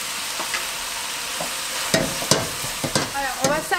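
Thick cream, about 250 grams, is stirred in a pot, giving a steady soft sizzling hiss with a scatter of scraping and clinking strokes that grow more frequent toward the end, with no talking.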